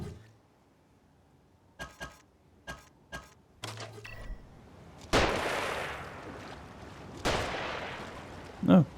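Gunfire in the video game The Evil Within, a few sharp single shots spaced apart early on, then heavier loud blasts with trailing rumble, and a brief sound at the very end.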